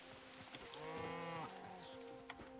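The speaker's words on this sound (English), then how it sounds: "Oh, those are the cows." Cows in the video game Hytale give a single drawn-out moo of about half a second, faint and somewhat distant, with small game sounds around it.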